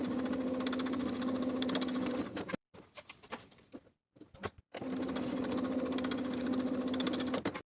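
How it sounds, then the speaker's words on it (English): Sewing machine stitches the shoulder seams of a jumpsuit at a 3/8 inch seam allowance: a fast, steady motor whir with rapid needle patter. One long run breaks into a short, choppy pause, then a second run. "Sew the shoulders with a 3/8 inch seam allowance and press the seams open."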